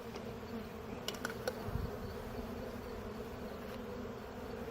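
Honey bees buzz continuously at close range during a sugar shake mite test, a steady hum with a few sharp knocks and rattles from the equipment partway through.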